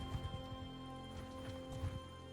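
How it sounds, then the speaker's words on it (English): Quiet, steady clip-clop of several horses of mounted horse archers galloping in the video game Mount & Blade II: Bannerlord, with rhythmic hoof thuds over a low background hum. "They are horse archers"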